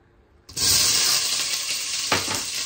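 Hot cooking oil sizzles and spatters loudly in a pan while adobo is cooked, bursting in abruptly and holding a steady, bright hiss with a brief flare of crackling near the end.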